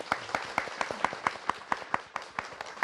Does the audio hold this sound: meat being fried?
no